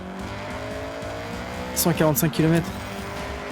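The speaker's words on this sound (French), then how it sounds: "All right, get the CRX up to speed." A Honda CRX racing in Forza Horizon, its engine revving steadily before a short burst of squealing tires rises above it, with a voice talking over the engine noise.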